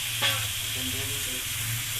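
Chicken frying in a spice masala, giving a steady broadband sizzle with a brief brighter burst near the start and a low hum underneath, with no voices.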